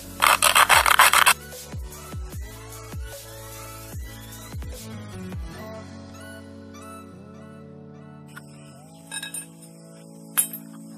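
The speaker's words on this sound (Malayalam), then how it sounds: "ഞാനിപ്പോ ഇതുപോലത്തെ ഒരു അരം ഉപയോഗിച്ചാണ് മിനുക്കിയെടുക്കുന്നത്." A hand file rasps against the cut edge of a plastic bottle in a short, loud burst at the start, followed by quieter scattered clinks and light scraping.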